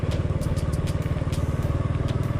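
A motorcycle rides along a rural road in Laos, its engine putting out a steady, close, pulsing putter with light clatter and wind noise throughout.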